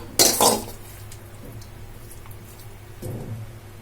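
Bread slices are dropped into a mixer jar in a kitchen: a quick crinkling rustle and soft clatter at the start, quiet in between, then a second brief rustle near the end.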